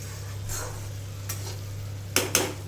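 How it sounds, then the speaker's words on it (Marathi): Onion and spice masala fries in a pan with a soft sizzle under a low hum, while a spoon stirs in a few separate scrapes, two of them sharp and close near the end. "दहा मिनटं जरा मसाल्याला फ्राय करून घेऊया"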